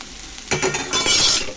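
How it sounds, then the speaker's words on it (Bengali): Spice paste stir-fried in very little oil, starting with a faint background hum before a sudden loud burst of sizzling and crackling along with spatula scraping that swells and continues to the end. "চলো, তো মশলাটা কষাচ্ছি"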